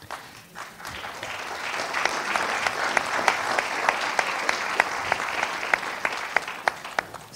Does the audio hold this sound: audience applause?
yes